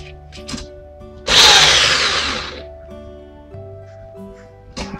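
A handheld electric drill clamped into a homemade drill press built from scrap parts whirs up for a little over a second, a loud, steady motor whine close by that fades as it spins down.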